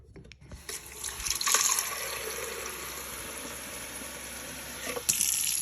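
Water pours steadily into the removable water container of a Miele coffee machine, a continuous close splashing and trickling stream that swells slightly after a second and runs on for several seconds with no talk.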